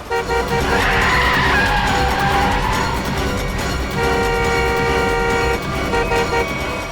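A car with failed brakes races along in a Hindi TV crime drama, a loud, continuous rush of engine and squealing tires with sustained horn-like tones throughout, no voices.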